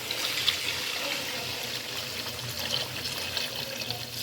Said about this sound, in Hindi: अब मैं इसके अंदर ऐड करती हूँ पानी।